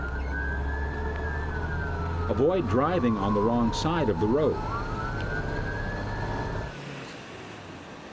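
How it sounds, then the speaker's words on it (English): A wailing emergency vehicle siren rises and falls in rapid yelping cycles over a steady vehicle hum, with a person speaking over it; the cadence changes approaching an intersection, then the siren cuts off. "Change the siren cadence 200 feet from the intersection."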